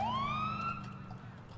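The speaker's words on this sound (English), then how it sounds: "But I've got another siren installed. It's a new siren" A police siren in LCPDFR, a police mod for GTA IV, sweeps upward in a single loud, close wail that holds steady and then fades slightly over under two seconds, with no voices.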